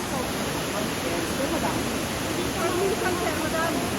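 Small waterfall called Baby Falls, with clear water, giving a steady, close broadband rush that stays even from start to end, with no talk over it.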